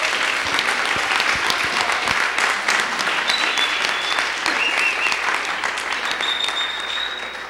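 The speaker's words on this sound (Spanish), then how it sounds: "con aplausos, por supuesto" Sustained applause from an audience at a panel discussion on the rights of working children and adolescents, dense steady clapping at fairly loud level throughout, easing slightly toward the end.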